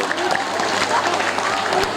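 Audience applause at a school P5 local-culture Sisingaan dance event in Pagaden, steady dense clapping with crowd noise and voices talking over it throughout.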